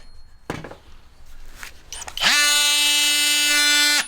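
Milwaukee M12 Fuel multi-tool starting up after a few handling clicks and knocks, then running with a loud, steady high-pitched whine for nearly two seconds close to the microphone.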